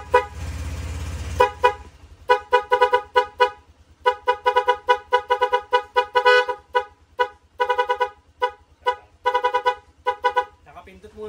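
An aftermarket Nipro musical horn fitted to a Honda Click scooter plays a run of short, rapid tonal toots in a melodic pattern. The toots come loud and close after a brief low engine rumble.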